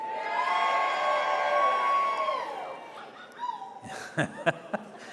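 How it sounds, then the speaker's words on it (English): A large convention audience cheers and whoops in a long, sustained swell that fades, followed by scattered individual shouts and claps. "Now, if you were here for the first time in the 1970s, let's have a cheer."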